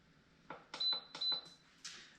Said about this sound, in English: So we're setting it on high pressure for 10 minutes